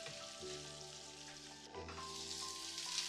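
Tripe fries on slow heat in a pan, a steady, close sizzle with a constant hiss and low hum in the background.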